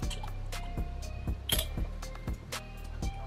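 Carbonated drink from a marble-sealed bottle fizzes and drips, with scattered clinks and liquid pops, close and fairly loud, no talking.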